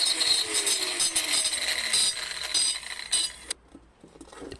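A power tool grinds a broken ceramic bonsai pot with a harsh, close whirring rasp that runs steadily and then stops, followed by quiet with a few small clinks and taps.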